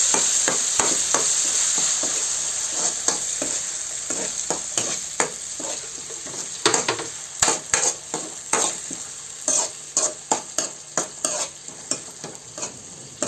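Spices sizzle and crackle in hot oil with a continuous hiss, punctuated by repeated sharp clacks of a spoon stirring against the pan.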